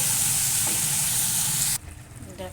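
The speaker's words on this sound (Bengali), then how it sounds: "বেশি ভাজবো না ডাটা বেশি ভাজলে না কেতো লাগে" Vegetable stalks frying in a pan with a loud, steady sizzle that cuts off sharply partway through, leaving quieter kitchen sounds behind.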